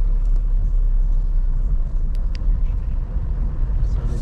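A car passing at night on a road gives a steady low rumble of engine and tyres that stays fairly even throughout, with a few faint high clicks over it.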